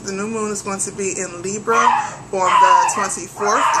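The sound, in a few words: dogs barking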